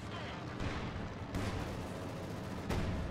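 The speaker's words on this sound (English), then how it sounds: "IL-2 strafing run coming right on top of the troops, German troops that is" IL-2 aircraft strafing run in Company of Heroes 2, a dense rumble of gunfire and booms with sharper bursts standing out, heard under a faint voice.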